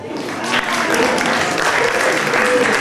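A dinner crowd in Hyères applauds loudly for Janine Simon, honored for devoting part of her life to the town; thick, sustained clapping fills the room, with voices and cheers mixed in underneath.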